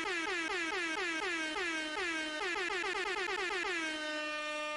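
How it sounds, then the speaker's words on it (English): An air horn sound effect blares in rapid repeated honks, each with a falling pitch, loud and continuous for several seconds before ending in one longer steady blast. "Air horn."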